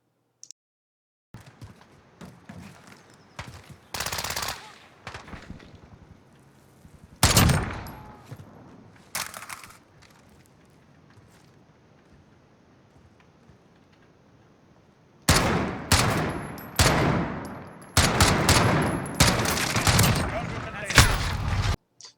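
Gunfire in Call of Duty comes in loud bursts of rapid shots, with a few short volleys early and then dense, sustained shooting toward the end, separated by quieter stretches of game ambience.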